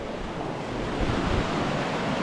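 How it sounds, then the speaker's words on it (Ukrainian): Flowing river water at a bathing spot in the Austrian mountains gives a steady, dense rush with no pauses, close and fairly loud, with some wind buffeting the microphone. "Отака у нас тут річка."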